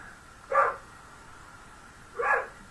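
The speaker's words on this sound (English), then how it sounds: "you might just hear that barking" A dog barks twice in the distance, two short yaps spaced well apart against quiet background noise.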